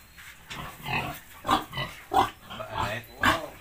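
A pig grunts and oinks repeatedly in close, loud bursts about every half second, with rough, throaty snorts and no talking.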